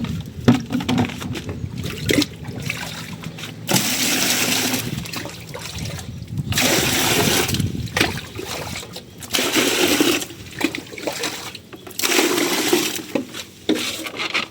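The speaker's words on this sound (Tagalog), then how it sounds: "So kailangan natin mag-igib ng pangbuhos." Water splashes and sloshes in uneven bursts as it is fetched for flushing a campsite toilet with no tap, with clanks of a container and scraping between pours, close by.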